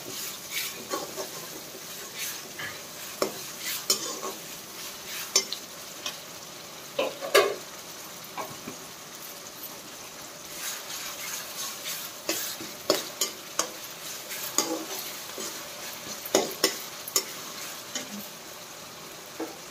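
A spoon stirs ginger garlic paste through a frying chana dal and ridge gourd curry in a home kitchen, giving scattered scraping clinks over a steady low sizzle that runs throughout.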